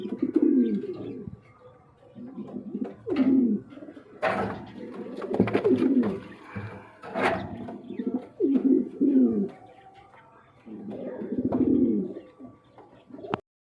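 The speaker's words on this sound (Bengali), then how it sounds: "এই কবুতরটা দেখাচ্ছি কিং রানিং পেয়ার" A pair of large red king pigeons coo close by in repeated low, throaty bursts, each phrase rolling for about a second with short pauses between, alongside occasional wing flutters and soft clicks.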